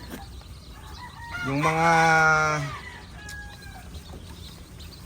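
A single close, loud crow from a rooster on a poultry farm with hatchlings, rising and holding for about a second and a half, with faint clucking and a brief spoken phrase around it.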